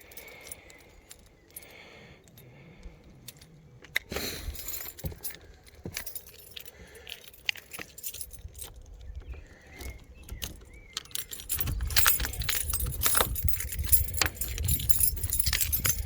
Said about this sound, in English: Get the keys out. Without pulling everything else out of my pocket.